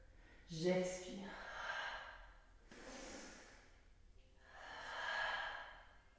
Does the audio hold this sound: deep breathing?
yes